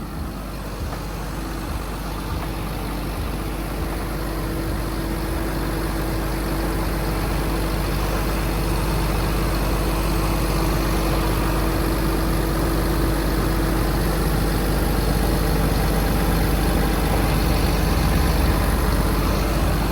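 A Caterpillar 320DR 20-ton excavator's diesel engine idles steadily up close, a constant low rumble with a faint whine, running alone for the whole stretch.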